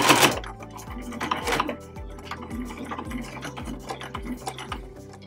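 Close sewing machine stitching through a fabric tote bag strap in quick runs of mechanical clatter, with a regular thumping pulse as the needle drives through.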